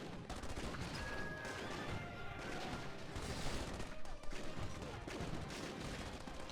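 Mortar fire booms and crackles in a DomiNations battle in the Atomic Age, with repeated muffled blasts and impacts layered over busy game noise and faint tones, moderately quiet throughout.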